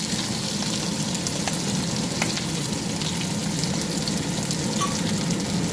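Green chillies and a whole onion sizzle in hot oil after a five-spice tempering, giving a steady, dense frying crackle close by with a few sharper pops, no talking.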